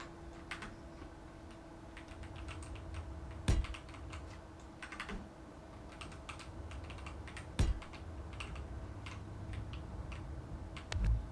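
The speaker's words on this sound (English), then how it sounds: "Maybe you will hear my keyboard" Quiet, steady typing clicks on a computer keyboard, with a few louder key thumps spaced out, heard close over a low hum.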